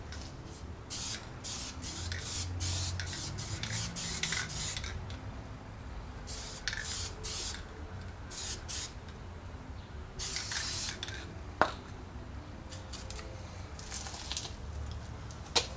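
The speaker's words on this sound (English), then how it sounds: "how that spray paint is eating into the foam, taking away that smooth surface and giving it a nice texture" Spray paint hisses onto carving foam in bursts, hitting the surface to weather it for a tombstone prop. Continuous close hiss is punctuated by short louder spurts and faint rattles.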